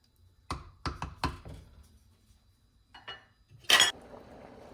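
Ackee seasoned rice being stirred in a pot, a few close, sharp spoon knocks and scrapes against the pot in a quick cluster, then quieter stirring and one brief harsh scrape, with no talking.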